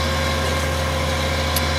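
The engine of a concrete boom truck, set up on a building site before a pour, idles in a steady, loud, unbroken drone, close by and with no talking.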